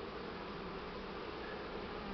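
Buckfast honeybees swarm around a hive, a steady dense buzzing drone that fills the whole stretch at a low, even level with no talking.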